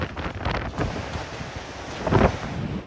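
Super Typhoon Nando's strong wind roars and buffets the microphone outside a municipal hall, a continuous rushing gale that swells into a heavy gust near the end.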